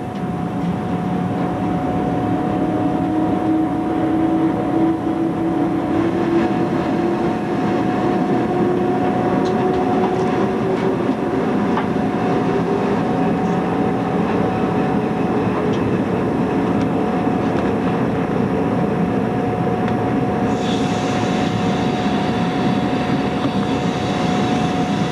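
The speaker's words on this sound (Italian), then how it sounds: "Il treno fa il suo ingresso in stazione in deviata." A train on the Pontebbana railway rolls steadily into a station on a diverging track near Arnoldstein in Austria, a sustained close rumble of wheels on rails with a steady high whine running throughout, no voices.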